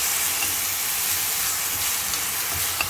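Kakarakaya (bitter gourd) frying in a pan with an even, continuous hiss of hot oil and occasional faint clicks, heard close and steady without talk.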